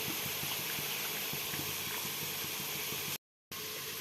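Pieces of chicken fry in hot oil with a steady, dense sizzle and bubbling hiss, broken once by a brief cut to silence near the end.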